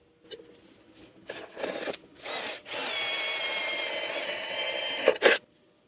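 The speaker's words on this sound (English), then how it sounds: "We're going to drill a hole" A power drill starts and stops in a few short bursts, then spins steadily with a high whine for several seconds as it bores through an aluminum bracket.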